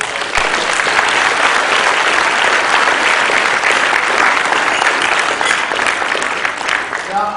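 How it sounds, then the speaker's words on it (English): A luncheon audience at a Tuskegee Airmen national convention gives students a big round of applause, loud, continuous and close, with no speech breaking through. "Let's give our students a big round of applause."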